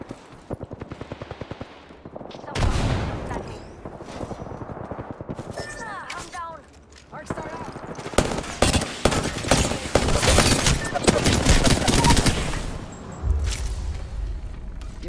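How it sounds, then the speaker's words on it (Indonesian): Gunfire in the video game shooter Apex Legends, played as the character Bangalore: dense bursts of rapid automatic fire and single shots, close and loud, interspersed with impacts and a player's voice speaking between volleys. "Shots fired, and they're hitting me."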